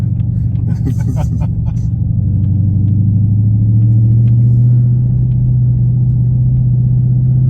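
A Dodge Charger engine rumbles steadily at low pitch as the car cruises through a neighborhood, with a brief burst of voices and clatter near the start.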